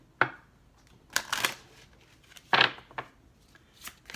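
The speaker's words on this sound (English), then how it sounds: "one more shuffle" Tarot cards being shuffled by hand, a few separate soft riffling bursts spaced apart with quiet gaps between them, close and faint.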